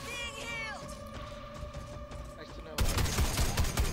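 Rapid gunfire in the multiplayer video game Evolve, with a game voice and tones at first, then a dense, loud burst of shots near the end.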